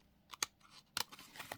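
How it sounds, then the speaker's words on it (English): Scissors snip through a blue piece of material being trimmed to fit a box, a few quiet, close cuts in short irregular clusters with near silence between them. "we are going to have to trim the rest of this blue one off because it will not fit in the box like that"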